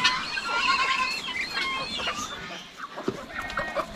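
Bulik (speckled) chickens on a farm cluck and call in repeated, overlapping bursts nearby, with a few sharper squawks rising above the steady flock chatter.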